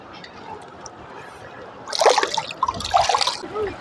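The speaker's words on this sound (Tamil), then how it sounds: "நல்லா ஆற்று தண்ணியில் நல்லா அழுக்கு போக தேய்ச்சி கழுவுற மாதிரி கழுவுறோம்." Water splashing and trickling as chicken is rubbed and rinsed in river water, in two bursts over a steady outdoor background hum.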